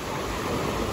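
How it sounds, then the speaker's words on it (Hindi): Sea waves wash in at Baga Beach, Goa, at night. The sound is a steady, broad rushing surf for about a second, with no talking. "पानी बढ़ गया बागा बीच पे आज"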